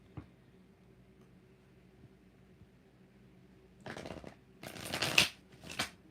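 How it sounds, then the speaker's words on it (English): Tarot cards shuffled by hand during a live tarot reading, heard as three or four brisk, close riffling bursts in the second half after a quiet, low hum. "Four shuffles for Tracy."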